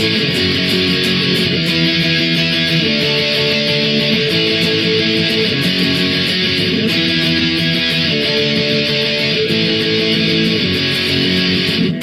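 A song's chorus played on distorted electric guitar, a continuous loud wall of crunchy power chords shifting through a repeating pattern with no talking.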